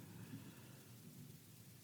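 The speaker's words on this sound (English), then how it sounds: "there's a thunderstorm happening outside here in New Orleans" A thunderstorm outside in New Orleans: steady rain and low, continuous thunder rumble, heard faintly and evenly throughout with no voices.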